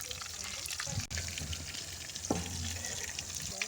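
Fish frying in a pan over a wood fire, a dense continuous sizzle close up, with occasional faint clinks and scrapes.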